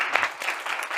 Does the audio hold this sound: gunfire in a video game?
no